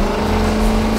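Engine of a race car in a car-versus-motorbike racing video game, a steady droning hum holding at a constant pitch, loud and continuous with no talking.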